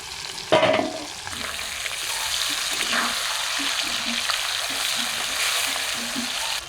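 Hilsa fish fries in hot mustard oil in a wok with a steady, close sizzle and hiss, broken by a sharp burst near the start and a run of soft, regular clinks and scrapes.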